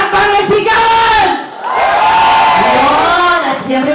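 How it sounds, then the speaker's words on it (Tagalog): Loud audience at a Filipino comedy show in Dubai erupts in cheering and shouting, a dense crowd roar with whoops that swells, dips briefly, then rises again. "isang palakpakan sigawan!"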